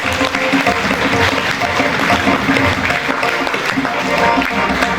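Steady applause rolls through an award ceremony hall as the audience keeps clapping, an even, continuous wash of many hands with faint tonal background sound beneath it.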